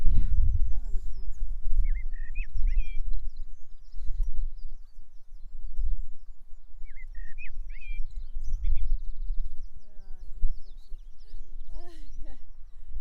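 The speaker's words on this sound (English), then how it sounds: "That sounds like a blackbird to me." Short fluting whistled phrases of a male blackbird repeat at a distance during the dawn chorus, over low rustling and handling noise, with a person speaking at times.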